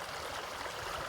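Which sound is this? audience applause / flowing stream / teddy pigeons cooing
flowing stream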